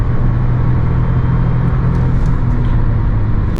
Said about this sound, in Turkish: biraz daha küçültüp tekrar dip gaz yapalım